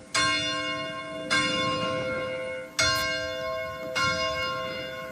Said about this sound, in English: at 4 we're going to be ringing the bell so the people know that the Acadian are here and proud